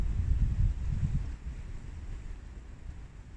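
Wind gusts across a microphone during an outdoor resistance-band workout, a loud low rumble in the first second and a half that then settles into a softer steady blow.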